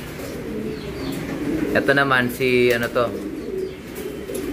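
Racing pigeons coo in a loft, soft repeated throaty calls overlapping as someone talks nearby.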